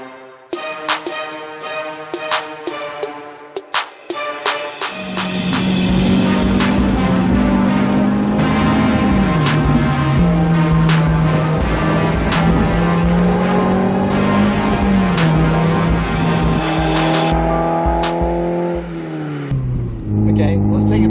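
A Mazda MX-5 Miata NB driven hard on twisty roads, its engine note loud and continuous, rising and falling through the gears as it accelerates, with talk over the top.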